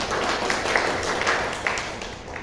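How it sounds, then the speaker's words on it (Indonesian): Classroom applause for a student group after their poster presentation, a short burst of steady overlapping hand claps from a small audience, moderately loud throughout. "Beri aplaus untuk kelompok 3"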